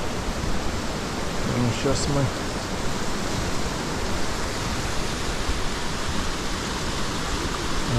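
A mountain waterfall near Krasnaya Polyana, Sochi, in February, rushes as a dense, steady roar filling the whole clip, with a brief voice speaking over it.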